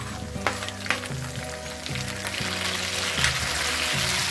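Okra and chopped tomato sizzle steadily in a pan while sambar is being cooked, a continuous close frying hiss with occasional stirring scrapes and taps.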